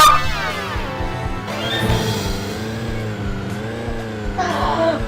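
A car engine drones and revs in the Turbo Dismount crash video game, a continuous near whine with shifting pitch and rhythmic pulsing throughout.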